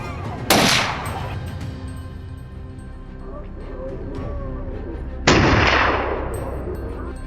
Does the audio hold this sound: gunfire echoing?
yes